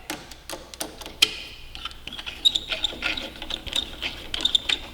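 Ratchet clicks come in short, close bursts while the brake lever pivot bolt lock nut on a Kawasaki Ninja 400 is loosened, mixed with light metallic handling noises and small taps.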